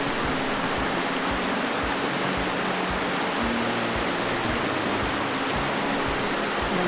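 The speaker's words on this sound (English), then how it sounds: "so I can actually hear the water." A rushing waterfall at Chute Fraser, Quebec, gives off a steady, full roar of falling water that stays constant without a break.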